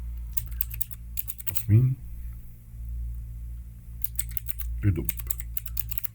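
Typing on a computer keyboard to enter a prompt, with bursts of quick key clicks around someone speaking Arabic.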